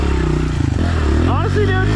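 A 2026 Honda CRF125F dirt bike engine drones loudly and close while being ridden, holding a steady buzzing pitch with a brief rev change, as the rider talks over it.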